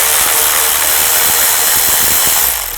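A ratchet spins rapidly and loudly up close as it removes a nut on a 2000-2006 Chevy Tahoe engine, a continuous dense clicking for about three seconds that tails off at the end.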